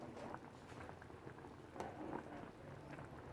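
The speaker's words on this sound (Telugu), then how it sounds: "కొత్తలాడుతూ చేపల పులుసు ఇట్లా ఉడకాలండి." Telugu fish curry (chepala pulusu) simmering in a pot, soft continuous bubbling and popping, faint and close.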